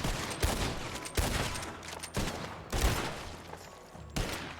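Sharp rifle shots from a Litchfield rifle in Red Dead Online, fairly faint and evenly spaced about once a second, with reload clicks and a hiss of reverberation between them.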